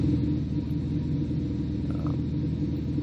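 A car engine idles through a Kufatec Sound Booster sound system, giving a low, steady, close rumble with an even rhythm and no revving.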